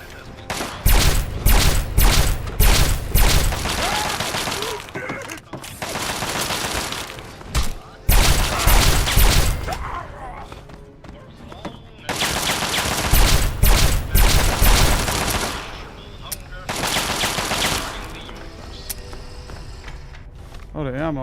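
Rapid gunfire in a Fallout 3 battle near the Washington Monument, loud bursts of shots with mechanical clatter in long runs and short pauses, a voice talking at times over the shooting.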